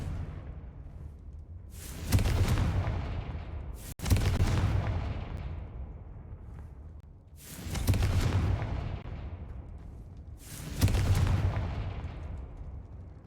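Confringo blasting spells in a video game go off as four heavy booming explosions spaced a few seconds apart, each striking hard and then rolling off into a long fading rumble.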